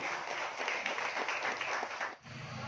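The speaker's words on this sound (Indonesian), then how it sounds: "Berikan tepuk tangan yang meriah." Dense, enthusiastic applause from an audience welcoming a speaker at a Prabowo political declaration event in Deli Serdang, North Sumatra, steady throughout with a brief dip near the end.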